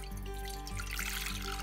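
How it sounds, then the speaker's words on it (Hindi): Water pours into a saucepan for a halwa recipe, a short continuous splashing trickle heard close by without talk. "सबसे पहले इस सॉस पैन में 2 कप पानी डालेंगे"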